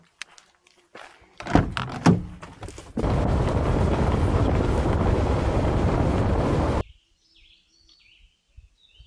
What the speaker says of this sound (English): I'm going to go back to my vehicle, take a short little drive over to, I believe it was Chipmunk Rapids